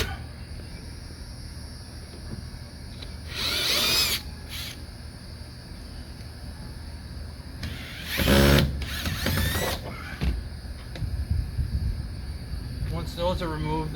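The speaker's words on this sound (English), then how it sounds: "Gonna remove these 3 Phillips screws on the rear armrest." A power drill backs Phillips screws out of the rear armrest of a 1967 Impala: two or three short, whirring bursts nearby, separated by quiet pauses and light handling noise.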